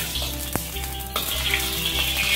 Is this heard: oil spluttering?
yes